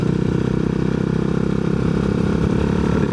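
A Herald Classic 400 motorcycle engine runs steadily with a loud, even low-pitched thrum and rapid regular pulsing, close by and without talk.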